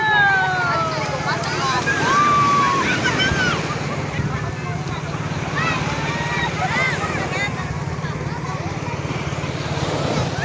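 Sea waves wash along a beach in Zambales, a steady broad surf rush with wind buffeting the microphone throughout, while people chatter close by and several voices talk over the water.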